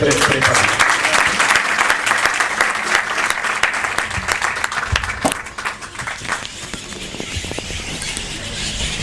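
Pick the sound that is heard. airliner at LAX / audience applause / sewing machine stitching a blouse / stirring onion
audience applause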